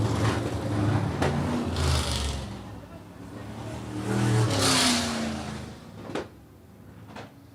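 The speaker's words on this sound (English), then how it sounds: "Lovely sounding motors." V8 sprint race cars at speed on an oval track, engines swelling and fading as they pass at middling distance, rough roaring revs over a general crowd-and-track wash, with sharp clicks near the end.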